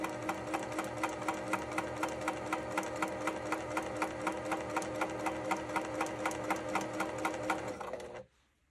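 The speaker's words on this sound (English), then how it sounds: "I'm just going to sew. I've increased the stitch length." Sewing machine stitching a pillow finish at an increased stitch length, a fast steady mechanical rattle of even stitches running close and loud for about eight seconds before stopping abruptly.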